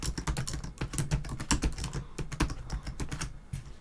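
Rapid, uneven keystrokes clatter on a computer keyboard, close and clear, a steady burst of typing with no voices.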